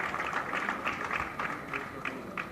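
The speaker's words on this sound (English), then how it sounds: "Please give them a big round of applause, ladies and gentlemen." An audience at a closing ceremony at BIEC in Bengaluru claps in a steady, dense patter, heard from some distance at moderate level with a faint crowd murmur underneath.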